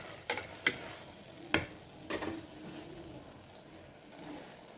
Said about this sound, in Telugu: ఇప్పుడు ఉల్లిపాయలు వేస్తున్నామండి. ఉల్లిపాయలు వేసి బాగా కలబెట్టేసి